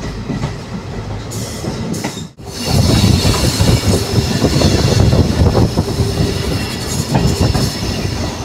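Satluz Express ICF coach running on new line rails between New Morinda and Mohali on the Ludhiana–Chandigarh branch, a loud steady rumble and rattle of wheels with brief dip, then continuous roar from inside the carriage.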